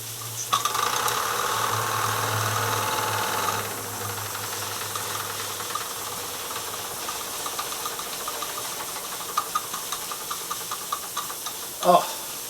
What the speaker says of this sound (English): She's blowing off steam lovely, so steaming very well.